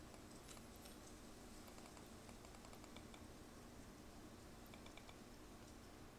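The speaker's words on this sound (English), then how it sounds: "I'm doing a lot of right clicking" Quick clicks of a computer mouse being right-clicked, a run of faint, fairly close ticks and taps against steady background hum, with no talking.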